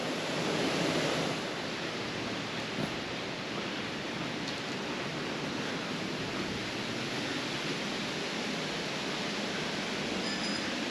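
Water of a winter stream rushing continuously nearby, an unbroken hiss-like roar that stays level throughout with no talking.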